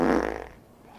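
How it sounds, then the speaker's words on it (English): A loud, close fart, one sustained rasping burst that trails off within a second, heard alone. "You ever fart so hard your back cracks?"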